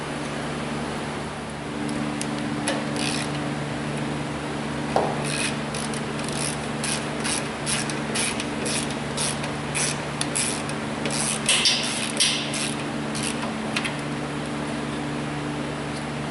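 Corrosion being scrubbed off a Toyota Corolla's battery hold-down, a steady faint rubbing and rasping with bursts of brisk strokes, heard close with no talking.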